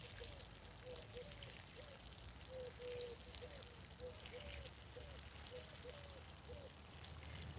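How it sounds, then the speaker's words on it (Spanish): Water pours steadily from a hose onto pine and fruit trees in a garden, a continuous wet splashing and trickling that runs unbroken from start to finish at a low, even level. "Estoy echando agua ahí a los pinos y a los árboles que hay debajo."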